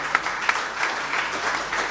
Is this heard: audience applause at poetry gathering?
yes